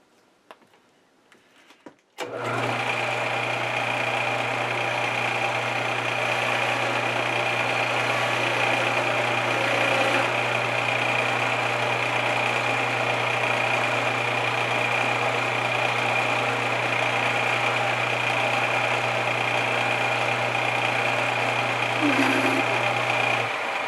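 A machine runs steadily while drilling a hole in an aluminum oil pot, a constant loud hum with a strong low tone that starts abruptly after a short quiet lead-in and continues unbroken.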